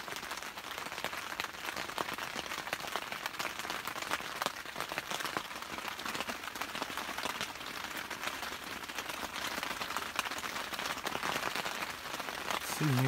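Steady rain drumming on a tent pitched by a lake while camping and fishing, a dense continuous patter that stays loud and even throughout, with no voices.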